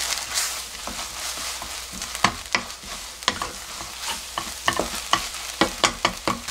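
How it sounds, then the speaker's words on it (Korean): Onions that have already cooked about twenty minutes being stir-fried in a pan for onion jam, with a continuous sizzle and a run of sharp spatula scrapes and knocks that come faster toward the end, close and clear. "20분 정도 볶은 상태거든요."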